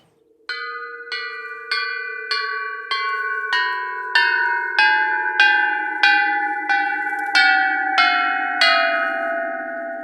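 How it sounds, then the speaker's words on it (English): Handmade chimes tuned to Schumann resonance notes ring out clearly, struck in an even sequence of about fourteen bright metallic strikes, each sustaining and overlapping the next, close and alone without talk. "Check out these chimes that I made back in 2019, which have the same notes as Hodad."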